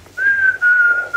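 A person whistles one sustained high note, steady and close, briefly dipping in the middle before carrying on, with faint room hum underneath and no speech.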